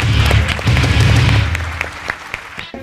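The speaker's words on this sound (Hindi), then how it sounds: "आपके भरपूर तालियों में।" A television show audience claps in a loud, dense burst that gradually thins into scattered claps and fades out.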